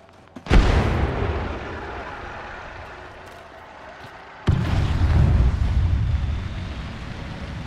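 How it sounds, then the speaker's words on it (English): Two heavy grenade blasts in Apex Legends: a loud boom that rumbles off and fades, then after about four seconds a second booming detonation with a long rolling tail. "Grenade incoming."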